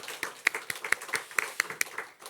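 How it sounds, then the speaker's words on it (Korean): A church congregation at a Sunday service claps to welcome a new pianist, making a brisk run of about a dozen fairly even, close claps in a quick rhythm from a modest group of people. "우리 박수로 환영하겠습니다."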